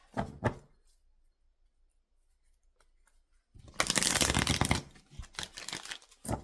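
A deck of tarot cards shuffled briskly in two bursts after a quiet pause, a dense riffling flutter that is close and fairly loud.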